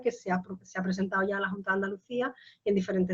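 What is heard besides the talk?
No distinct noise like a dog, phone or traffic.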